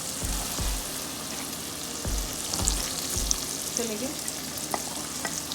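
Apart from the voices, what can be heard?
finely chopped onions frying with spices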